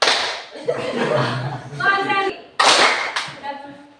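Hand-clapping game called "tepuk malam", led in a classroom: a few sharp claps and slaps break through loud mixed voices and chatter, with bursts of clapping toward the end.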